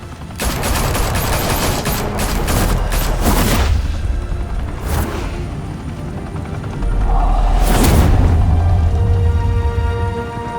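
Gunfire in the Batman Telltale video game: loud, close bursts of rapid automatic fire with booming hits over a continuous rumbling background, rising again toward the end.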